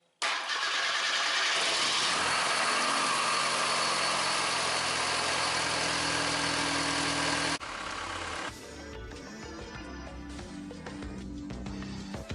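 A 1990 Ford Escort engine, just fitted with a new alternator, cranks and catches with a loud burst, then settles into a steady, lower mid-pitched idle that runs on evenly to the end.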